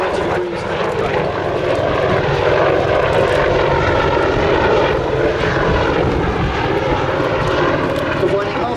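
An aircraft performing a 360 degree wing over at the Duxford Air Festival makes a loud, sustained engine roar, with a commentator talking over it throughout.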